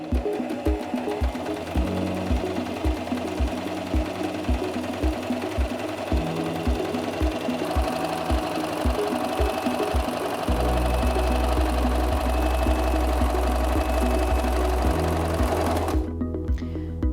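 A SINGER M2100 sewing machine stitches a decorative scallop pattern, its needle punching in a steady rapid rhythm that shifts pace partway through, loud and close with no voices.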